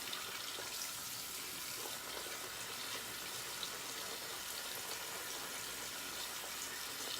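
Water pours into a bowl of shaving soap, a soft, steady hiss and trickle like a running tap, quiet and continuous without pauses or talk.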